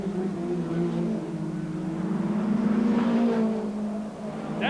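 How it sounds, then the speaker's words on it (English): An in-car saloon race car engine drones loud and steady at high speed in fifth gear during the 1989 British Touring Car Championship, with heavy wind and road roar and a slight rise in pitch. "in car with Jerry Mahony, up to 4th, 120 miles an hour, 5th gear, 130 miles an hour over the line"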